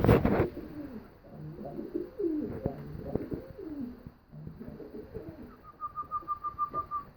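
Pigeons coo in a series of soft, throaty calls close by, followed by a rapid run of rhythmic cooing pulses near the end.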